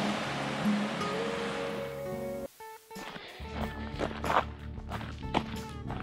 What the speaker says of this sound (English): walking barefoot along the water's edge.